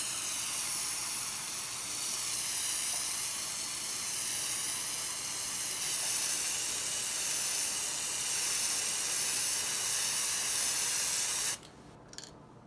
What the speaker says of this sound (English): I was shaking this, and then I'm just going to spray it evenly